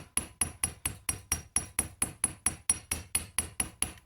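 Steady, evenly spaced hammer strikes on the edge of a copper brooch, about four per second, each a bright ringing tap, close and alone with no voices.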